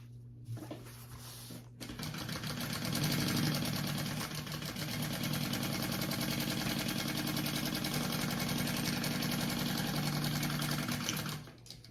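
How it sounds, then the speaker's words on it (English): A sewing machine bastes fabric layers together for a crossbody bag, running in a steady close mechanical whir with rapid needle chatter for about ten seconds after a brief start, then stopping. "baste those layers together real quick"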